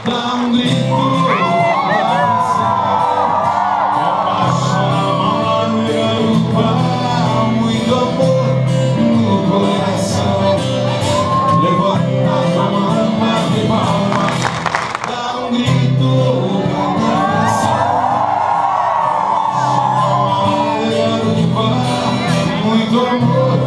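A concert crowd at a live show shouts, whoops and cheers continuously, loud and dense, with music and voices mixed in throughout and brief swells of shrill yelling.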